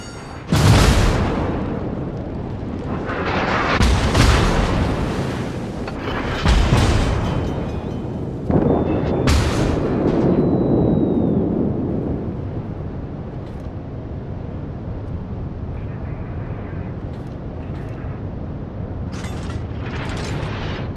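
Warship guns firing in a naval video game, a series of heavy booming salvos with rumbling decay, loud and close, the blasts spaced a few seconds apart before fading into a low rumble.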